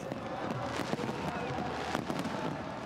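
A dense run of distant fireworks over Doha, Qatar, at the closing of a football competition, crackling and popping, with rapid irregular bursts blending into a continuous rumbling backdrop.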